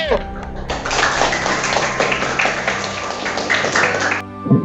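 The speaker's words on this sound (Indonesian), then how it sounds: "kita beri tepuk tangan dulu kelompok yang mau maju" Classroom audience applauding as a student group comes forward, dense steady clapping for about four seconds with a tonal hum beneath, then stopping abruptly.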